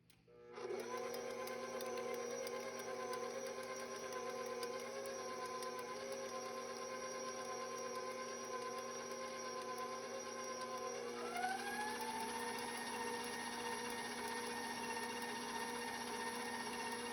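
An electric mixer blending cake batter with milk for an apple fritter cake runs steadily at close range, a continuous whirring motor hum that rises slightly in pitch near the end, with no talking.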